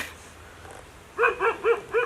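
A dog barks four times in a quick, even series, fairly close and loud, after a quiet stretch of outdoor background at a roadside fishing spot in Salaya, Thailand.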